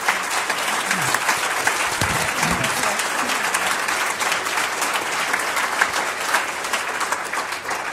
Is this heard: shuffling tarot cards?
no